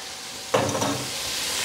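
Onion tipped into a hot pot for lentil soup sets off a sudden close sizzle that settles into a steady hissing fry, alone with no talk.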